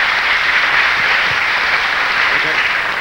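Loud, dense applause from a television studio audience on a live Peruvian midday variety show, steady and sustained throughout as a musical duo of brothers is welcomed.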